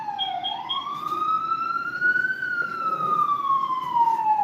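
A wailing siren rises and then slowly falls in pitch, heard at moderate distance over faint traffic noise.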